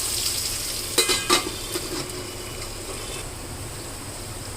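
Maharashtra radish pods frying on low flame in a pan: steady soft sizzle, with a few quick metallic clanks of a utensil near the one-second mark, close and alone, with no talking.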